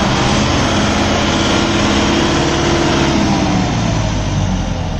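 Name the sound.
Kubota MU 5502 tractor engine running in low gear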